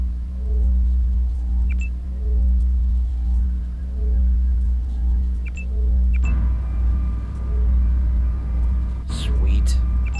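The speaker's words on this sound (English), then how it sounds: "There is a storm brewing outside. It sounds like the end of the world." In the video game Deus Ex, a storm rumbles outside as a deep, continuous low roll that swells and fades in slow waves. Faint murmuring voices sit underneath it.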